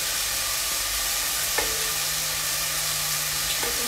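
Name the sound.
potatoes frying on high heat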